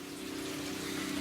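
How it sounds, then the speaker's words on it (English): A solar-powered water pump runs steadily, pushing water uphill to a tiny house, with a continuous low motor hum under a wash of flowing, gushing water and no voices. "So that's gonna take that water, pump it up to the top"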